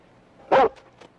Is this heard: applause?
no